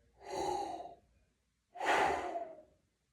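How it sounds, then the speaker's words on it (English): Two deep, audible breaths taken close to the mic during a beginner trumpet lesson, each a long airy rush lasting about a second, separated by a brief pause, with no talking. "take a nice deep breath in"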